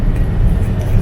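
Road traffic near Al Hair Lake Park in Riyadh, Saudi Arabia, produces a steady, loud, low rumble of passing cars, with a voice mixed into the noise.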